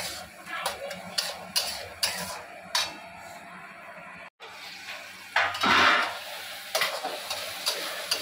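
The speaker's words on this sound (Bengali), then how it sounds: "মশলাটা আস্তে আস্তে গ্যাস কমিয়ে কষানো হবে।" Spice masala with turmeric being slowly sautéed over low heat in a pan for chhanar dalna, soft sizzling broken by intermittent scrapes and taps of stirring, with a brief gap and a louder burst of sizzle near the end.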